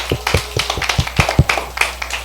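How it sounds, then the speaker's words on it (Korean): A small church youth service audience claps briefly, with scattered, uneven hand claps close by and no talking. "자, 박수."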